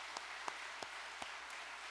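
Soft, distant congregational applause during a church service, a quiet steady patter with a few sharper claps standing out.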